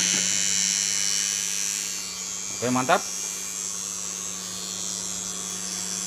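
A repaired thermostat cooling fan inside a SUOER FPC 3000B inverter with internal ATS hums and buzzes steadily, its blades touching nearby cables and bolts, with a brief spoken remark midway.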